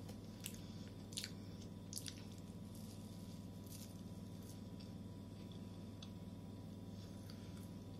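Someone eating, with soft, wet squishing bites and chewing sounds at irregular intervals. They are close but faint over a low steady background hum, and no one talks.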